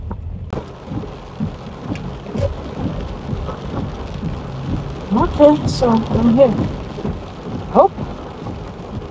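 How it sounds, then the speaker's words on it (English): Rain falls steadily with low rumbles of thunder rolling through, moderately loud around a person who speaks briefly nearby. "It's still raining, it's still raining"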